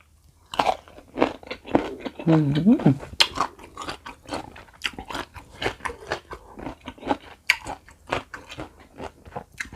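Crunchy bites and chewing of salted pickled mango with shallots, crisp close-up crunches repeating through the clip, with a voice briefly heard.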